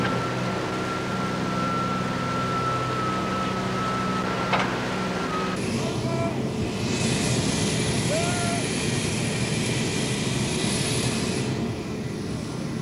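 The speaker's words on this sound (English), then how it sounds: "This Catalina is amphibious, and now we prepared for our first dry landing." A Catalina amphibious flying boat's piston engines drone steadily and loudly through a dry landing at Abu Simbel, a constant roar filling the whole stretch with brief tonal whines and hiss layered in partway through.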